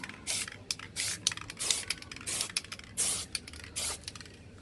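Repeated bursts of spray painting on a car's rear diffuser, short hissing blasts with brief gaps in an uneven rhythm, close and fairly loud with no talking.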